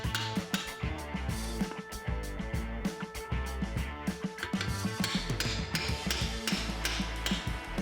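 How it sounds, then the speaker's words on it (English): A hammer strikes a chisel driven into a subframe bushing on a Nissan 240SX, giving a steady run of sharp metallic taps that repeat every fraction of a second under background music. "Take your time hammering, checking every so often that you're not hammering into the subframe itself."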